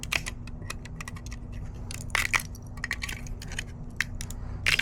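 Plastic support pieces being cut and snapped off a 3D-printed top panel handle for a BMW E36 convertible, heard as a series of sharp, close clicks and cracks in irregular bursts over a steady low hum.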